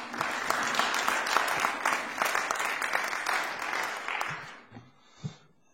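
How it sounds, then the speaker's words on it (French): An audience at a book talk on Turkish intelligence services applauds the arriving speaker, a full, steady burst of many hands that fades out over the last second, leaving a few faint knocks. "Je vous remercie donc de l'applaudir."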